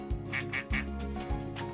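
Three short, nasal duck quacks come in quick succession, close and clear, with no talking over them.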